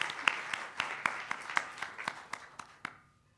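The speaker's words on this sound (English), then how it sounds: "Let us give these folks a round of applause." Sparse congregation applause at a spring congregational meeting, a few distinct claps in an uneven rhythm, fairly quiet and tapering off into silence.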